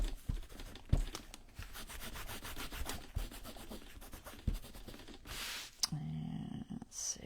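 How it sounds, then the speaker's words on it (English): Chalk marks are rubbed off a vintage Christmas junk journal cover, a close, steady scrubbing and rubbing that goes on for several seconds, with a few soft knocks and a brief rustle near the end. "So erase all your little marks."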